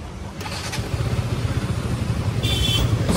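A KTM motorcycle, in for a clutch kit change, idling steadily after starting, with a low throbbing pulse at close range and a brief higher whine in the background.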